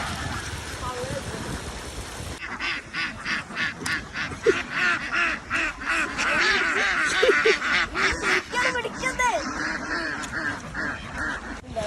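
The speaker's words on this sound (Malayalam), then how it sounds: "കുളം എന്താണ് അവിടെ ഇവിടെ നിറച്ച് താറാവന്നെയാണ്" Ducks quack repeatedly at a village pond, a busy overlapping chorus of calls close by, with a voice talking over them for much of the time.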